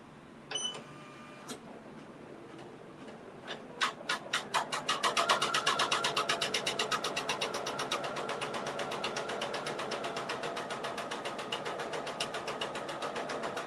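An embroidery machine stitches out a mug rug: a few scattered clicks at first, then a fast, steady run of rhythmic stitching that carries on alone at close range.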